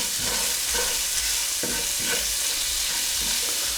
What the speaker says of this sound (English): So we're going to be searing it.